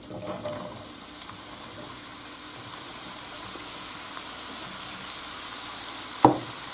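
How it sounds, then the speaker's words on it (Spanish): Mushrooms dropped into hot oil in a pan, a faint steady sizzle with light stirring and a short clatter near the end. "Ya se ha calentado el aceite y ahora echamos el champiñón."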